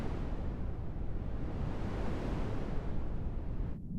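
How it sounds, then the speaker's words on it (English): Filtered pink noise from an electronic noise circuit gives a continuous broadband rushing wash like waves rolling in. It stays loud and steady and cuts off abruptly at the end. "if we apply more filtering to pink noise, like a wah-wah effect, we can accentuate or diminish certain frequencies and emulate the sounds of waves rolling in"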